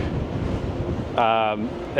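Blustery wind buffets the microphone on the jogging track of the cruise ship Celebrity Apex's deck in a steady low rumble, with a brief voice breaking through partway.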